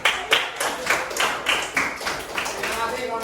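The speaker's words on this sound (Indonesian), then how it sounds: "Tepuk tangan sekali lagi." A group of students in a classroom claps together in a steady rhythmic beat, several loud unison claps blending with crowd noise and voices, close and lively.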